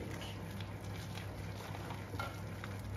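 Cheese is stirred into mashed potato for a cottage pie, producing a continuous soft, thick squelching and scraping, close and steady for a few seconds.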